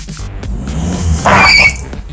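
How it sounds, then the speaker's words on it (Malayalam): A car is driven onto a Kannur building stone. An engine rumbles close by, with a short, sharp squeal and scrape from the tyre midway through before it settles back to a low idle. "ഈ സാധനം നമ്മൾ ഈ വണ്ടി കയറ്റി പൊട്ടിക്കാൻ പോകാട്ടോ"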